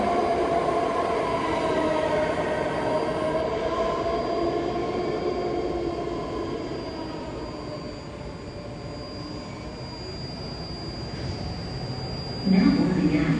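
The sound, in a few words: 9-car BART yellow line train passing at Colma station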